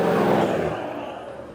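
A 4WD car drives along with a steady engine hum and road noise that fades slightly over a short stretch, no talk over it.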